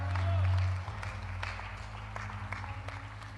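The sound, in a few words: congregation applause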